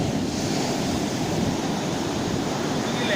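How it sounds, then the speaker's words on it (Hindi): Ocean waves wash steadily onto the shore near Somnath, a continuous broad roar of surf mixed with wind buffeting the microphone, loud and close with no voices. "लहरें आ रही होती है, पीछे ले जाएंगी मुझे।"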